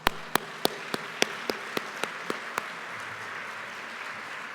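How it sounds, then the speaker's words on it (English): Applause for honorees at an award dinner: about ten sharp, distinct claps ring out over roughly two and a half seconds above a faint, hushed room, then taper off into quiet. "let's give one more applause to our honorees"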